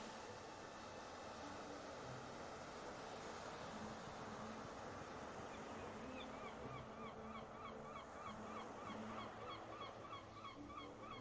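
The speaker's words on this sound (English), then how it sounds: "God, that sound of gulls." Gulls calling repeatedly at a beach, a string of short rising cries growing busier in the second half, heard over steady wind and surf noise with no voices.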